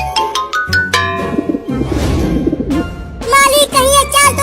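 Cartoon pigeons coo as they gather to peck at scattered grain. Soft, repeated coos rise over a bright, tonal cartoon backdrop, loudest near the end.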